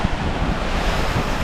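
Sea waves washing onto a sandy beach in Phuket, Thailand, a steady rushing surf mixed with wind noise on the microphone, continuous and fairly soft with no talking.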